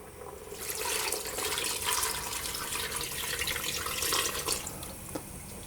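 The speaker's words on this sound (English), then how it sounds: "I'm going to add the water." Water poured into a pot of Japanese chicken curry with vegetables, a continuous close splashing rush lasting several seconds before tapering off.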